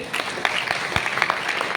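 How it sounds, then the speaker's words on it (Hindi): A crowd clapping steadily with scattered sharper claps, moderately loud and continuous throughout. "एक बार जोरदार तालियां होनी चाहिए"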